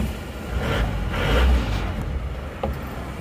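An Isuzu Panther pickup engine starts and runs close by: a rough, steady diesel-like rumble that swells briefly, with no talking.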